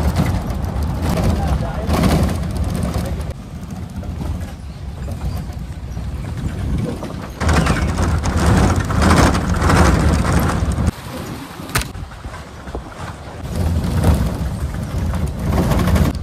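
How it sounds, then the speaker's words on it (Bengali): An open jungle safari vehicle rumbles along a winding forest track in Gorumara National Park, its engine and rattling body noise loud and uneven throughout while people talk over it. "এই যে জঙ্গল সাফারি গাড়ি"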